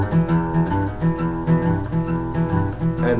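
Acoustic guitar playing a quick boogie woogie run in sixths, fretted with the second and third fingers of the left hand, a steady shuffling riff repeating about six times, close and clear with no voices.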